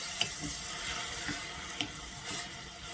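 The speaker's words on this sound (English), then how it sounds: "You're going to add 1/4 of a cup of wine now. And you're going to stir this and let it evaporate." Orzo pasta in a pan sizzling as a splash of wine is stirred in and cooks off, a steady hiss broken by a couple of sharp spoon clinks against the pan, close and without voices.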